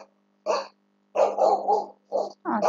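A dog barking sound effect: four sharp, close barks come in separate bursts with short silences between them, over a faint steady hum.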